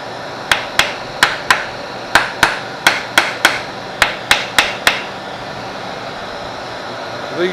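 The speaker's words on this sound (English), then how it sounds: "I just snug them down with my impact." Impact wrench snugging down bolts during a GPT transmission job, heard as about a dozen short, sharp percussive bursts in quick uneven groups, fairly close and loud against a quiet shop background.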